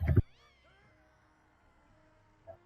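A house cat gives a single loud, close meow at the start, then a quieter faint meow follows about two seconds later in an otherwise quiet room.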